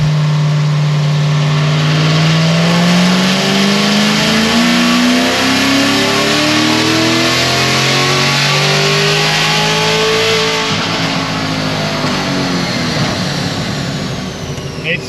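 A Corvette C7 Z06 engine revs hard through a dyno pull, the loud tone climbing steadily across the run before easing off near the end, with a voice speaking briefly.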